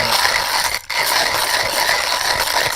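A Comandante hand coffee grinder set at 30 crushes beans for a medium-coarse immersion grind, giving a steady, close gritty crunch and ratcheting rasp that continues without pause apart from one brief dip.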